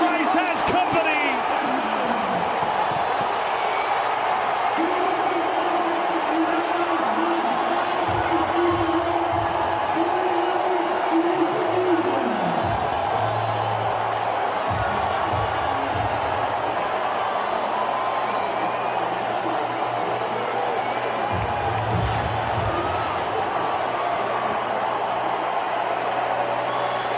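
A stadium crowd roars after a touchdown pass in a pro football game, a steady, loud wall of cheering that lasts the whole stretch while a commentator talks over it.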